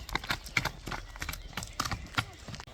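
A horse being led at a walk, hooves clip-clopping in a steady, fairly close rhythm with faint voices in the background.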